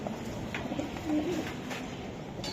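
Pigeons kept for sale at a racer and Budapest pigeon dealer's loft give soft, low cooing, faint and steady, with a brief louder coo near the middle over a hissy room background.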